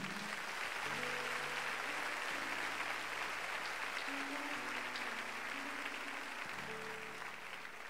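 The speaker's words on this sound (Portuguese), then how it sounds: "Quem pode aplaudir forte ao Senhor por isso?" Church congregation applauding during a sermon, a sustained, even wash of clapping heard from a distance beneath a low organ or keyboard playing shifting chords.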